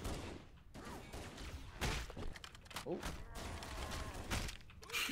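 Pistol gunfire in the Halo: Combat Evolved video game comes as several sharp, punchy shots spaced a second or so apart, mixed with thuds and game effects. The shots are fairly quiet overall, and a voice talks between them.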